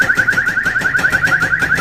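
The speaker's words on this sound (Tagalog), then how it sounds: "Yan yung ano, yung pang-alarm ng sakyan" A motorcycle alarm siren warbles rapidly in a fast, pulsing electronic chirp, loud and close, repeating without pause.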